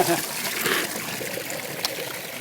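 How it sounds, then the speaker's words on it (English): Cold, iron-rich spring water trickles and splashes steadily at its source outdoors, a continuous bubbling wash close by with a brief splash partway through. "that's the spring where all the water comes from"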